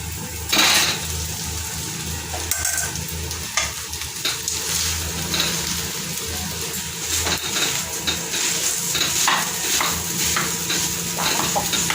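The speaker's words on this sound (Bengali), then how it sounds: "এবং ভেজে নিই, তারপরে চাউমিনগুলো দিয়ে দেবো ওর মধ্যে" Chow mein sizzles steadily in a hot pan while being stirred, with a constant frying hiss broken by repeated scraping and clinking strokes of a utensil against the pan, close and fairly loud.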